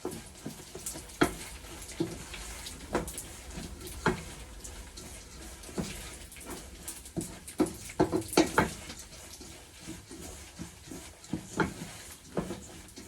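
Nigerian fried rice being stirred in a pan: repeated spoon scrapes and knocks against the pan at an uneven rhythm, over a soft low sizzle, close and moderately quiet, without talking.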